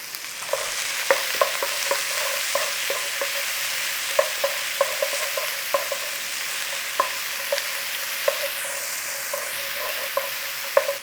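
Garlic ginger paste fries over high flame in a thick wok, with a steady close sizzle broken by frequent sharp scraping clicks of stirring.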